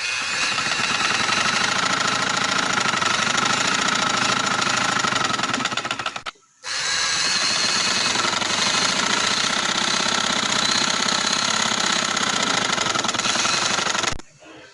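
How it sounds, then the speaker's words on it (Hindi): A sewing machine runs a straight seam on trouser fabric with a loud, close, continuous motor drone, stopping briefly once midway before running on again. "ये मैंने इधर से सिलाई लगा लिया"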